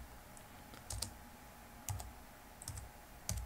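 Sparse, faint keystrokes on a computer keyboard as a Linux command is typed, small clusters of soft clicks over quiet background hum.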